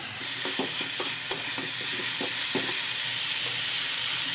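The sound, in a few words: stir-frying spices (turmeric, chili, coriander) in oil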